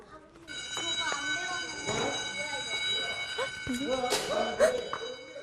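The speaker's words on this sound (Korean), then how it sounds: "시험지를 나눠주려는 순간 경보음이 울렸습니다." A fire alarm goes off in a school classroom during a fourth-grade maths test, its steady electronic tone ringing continuously while children and an adult talk and react over it.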